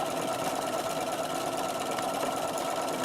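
Sewing machine stitching the word butterfly onto a postcard, a steady, fast mechanical whir and rapid needle chatter running continuously at moderate level, no talking.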